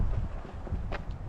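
Wind gusts buffet the microphone outside a visitor center in a mountain valley at the Gila Cliff Dwellings in New Mexico, making a brief, loud, low rumble with no talking.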